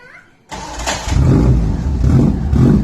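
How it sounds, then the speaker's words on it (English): A Premier Padmini car with a modified exhaust starts up: a brief quiet moment, then the engine cranks and catches into a loud, close, rumbling idle with rhythmic low pulses. "My friend is now going to start the car."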